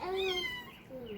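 A kitten meows on outdoor steps with a series of high, wavering cries over a noisy background, while a person talks nearby.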